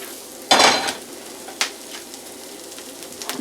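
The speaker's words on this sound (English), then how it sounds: "we're going to wait for the carrots to finish boiling and the potatoes to finish frying" Potatoes frying in a pan give a low sizzle under a sharp burst of stirring and scraping, then a softer scrape, with no talking.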